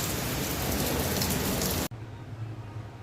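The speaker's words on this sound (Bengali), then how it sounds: "প্রচুর বৃষ্টি, তাই ভাবলাম একটু মাংস রান্না করি।" Heavy rain falls with a dense, steady roar for a couple of seconds, then cuts to a quieter low rumble.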